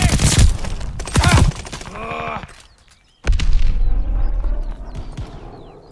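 Grenade blast and gunfire in Call of Duty Vanguard multiplayer, loud bursts of shots at the start, a brief near-silent gap, then a heavy explosion followed by a rumbling tail and scattered firing.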